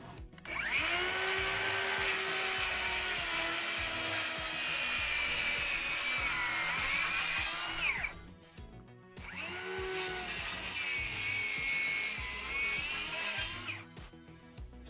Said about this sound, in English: So the hand saw does a good job for now.